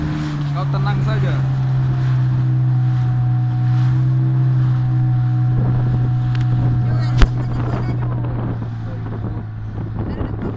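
A motorboat speeds out toward a fishing spot off Pulau Abang, its engine a loud steady drone with wind buffeting the microphone and water rushing past throughout.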